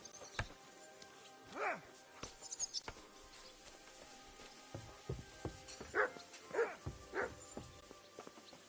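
A dog in the medieval video game Kingdom Come Deliverance 2 gives a few short, sharp yips and barks, quiet and somewhat distant, spaced apart over low game ambience.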